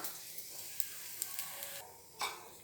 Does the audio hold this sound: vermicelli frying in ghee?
yes